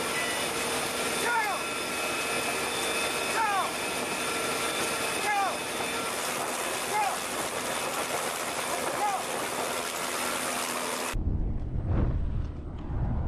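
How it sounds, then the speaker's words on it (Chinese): An armed military helicopter flies at night during special-forces parachute training. Its engine and rotors make a loud, steady broadband roar for about eleven seconds, then the sound cuts off abruptly. "夜色中，武装直升机规避敌雷达阵地，"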